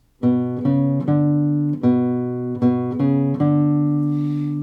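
Guitar playing Brahms' Lullaby with the melody carried in the bass, a series of distinct plucked notes ringing out clearly over sustained upper voices, solo with no talking.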